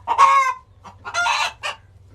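Hens on a small farm give a few close, loud bursts of clucking and squawking in quick succession, with short gaps between the calls.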